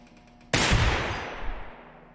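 A single loud, close gunshot from the VR shooting game Receiver 2 cracks sharply and then rings out in a long fading tail, with no other shots following.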